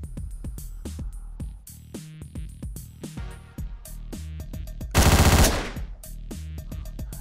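Rapid gunfire from the top-down action game Hotline Miami, with sharp repeated shots over a driving electronic soundtrack and a loud dense burst of fire near the end.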